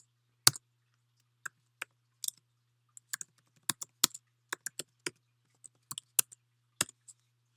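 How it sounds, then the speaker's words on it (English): Scattered keystrokes clack on a computer keyboard, irregular single taps and short bursts, close and clear against a quiet low hum. "you could hear me typing"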